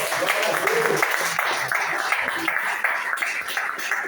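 A church congregation claps together at the end of a service, sustained and fairly loud, with voices mixed in under the clapping.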